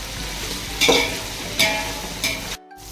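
Onion and tomato stirred and sautéed in a pan for chicken biryani, a soft sizzle broken by three scraping stirs of a spoon at regular intervals, close and fairly quiet.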